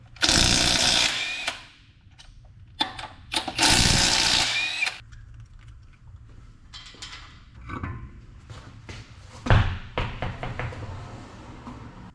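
A power tool, likely an impact gun, spins off the wheels of a Toyota 79 Series work ute in several loud, close bursts separated by quieter clanks and handling noises.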